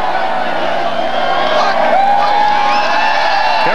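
A capacity crowd of more than 24,000 cheers and whoops in a stadium at the 1995 Jaguars vs Panthers NFL preseason Hall of Fame game, a loud, continuous roar.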